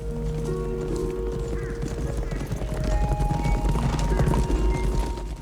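Horses gallop in a movie scene, hooves clattering rapidly over a dense, roaring background, with a horse whinnying and people talking.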